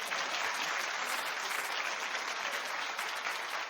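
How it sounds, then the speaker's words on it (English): A studio audience claps loudly and steadily on a daytime talk show, dense applause that holds at an even level for a few seconds with no voices standing out. "Clap if we'd be judging."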